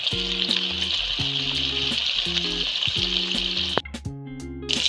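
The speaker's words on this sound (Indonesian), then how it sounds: "kita goreng ayam" Whole chicken pieces, neck included, fry in hot oil with a continuous loud sizzle and crackle, and a brief stirring disturbance near the end.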